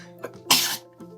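A single sharp sneeze bursts out close by, preceded by a short intake of breath, with a quiet room background.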